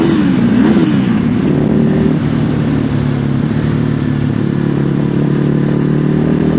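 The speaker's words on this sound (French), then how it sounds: "Mauvais passage de vitesse shifter, désolé." A Ducati Hypermotard 950 SP motorcycle drones loud and close under steady throttle, its engine note lurching and wavering through a botched quickshifter gear change before settling back into a constant roar.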